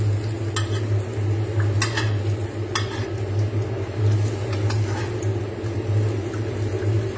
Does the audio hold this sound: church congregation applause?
no